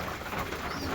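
Young racing pigeons cooing in a loft, a soft continuous murmur of many birds close by, steady and fairly faint throughout with no talking.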